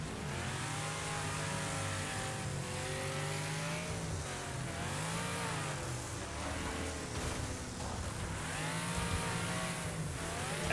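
A video game car engine revs and roars continuously, pitch sweeping up and down with gear changes and a surge as it jumps, loud and steady with no speech over it.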